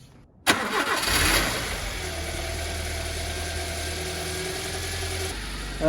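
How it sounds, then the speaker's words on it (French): A car engine cranks and catches after a brief quiet moment, then settles into a steady, low idle that continues to the end. "on va démarrer le moteur pour voir ce que ça donne"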